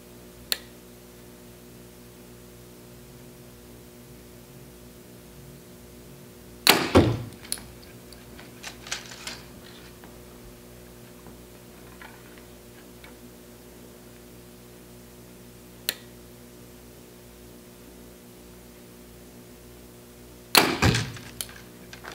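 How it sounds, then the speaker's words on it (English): Two arrows from a newly built bow thud sharply into a target, each release and impact arriving as a brief loud crack with a short rattle, separated by long quiet stretches with faint clicks. "I'll just aim at the same spot with both arrows."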